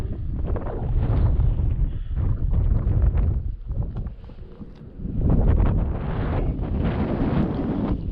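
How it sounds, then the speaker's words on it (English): Strong wind buffets the microphone up on a point in the San Rafael Swell desert in Utah, a loud low rumbling roar in gusts, easing briefly midway before surging again. "Breezy up here on the point"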